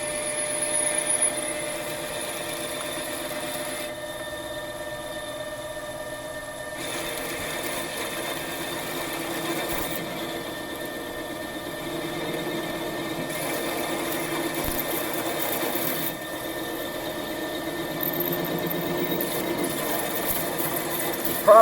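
A Haas TL-1 CNC lathe runs a peck drilling cycle, a steady machine whir whose tone shifts in repeated stretches as the drill advances and retracts, with faint knocks, heard without talk.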